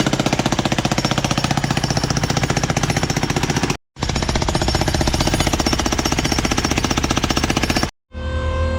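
A loud jackhammer breaking up an old concrete sidewalk pounds continuously in rapid bursts, with two brief pauses before it starts up again, close by.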